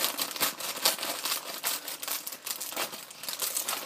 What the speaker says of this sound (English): So first, you take the pack, you cut it open